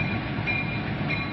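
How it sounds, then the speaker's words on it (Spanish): Oil tank train of 118 cars rolling through a shipping terminal in Trenton, North Dakota, a steady, loud rumbling roar with faint metallic squeal, continuous throughout. "Trenes petroleros con una longitud de 118 vagones entran y salen de una terminal de envíos."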